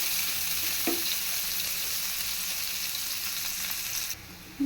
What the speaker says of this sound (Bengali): পেঁয়াজগুলো একটু নরম করে ভেজে নিতে হবে